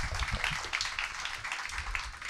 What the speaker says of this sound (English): Applause for these two geniuses here.